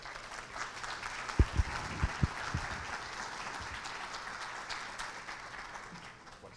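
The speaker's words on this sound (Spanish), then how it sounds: "Fuerte el aplauso para él." Applause fills a large hall at the 16th National Tax Congress as a speaker is welcomed. It is a soft, steady wash of clapping from a distant audience, with a few louder thumps near the start.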